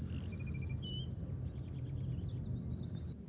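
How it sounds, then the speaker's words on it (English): A twelve-and-a-half-day-old sparrow sings thin, high chirps and short tonal phrases, fairly faint over a steady low rumble of background noise. "There's a slight chance that's one of the 12-and-a-half-day-old sparrows."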